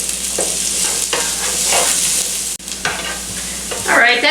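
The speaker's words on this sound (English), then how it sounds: "once your butter is heated up, they want you to cook the onions for 2 to 3 minutes" Onions sizzling in melted butter in a large skillet, a steady close frying hiss with occasional stirring scrapes and no talk.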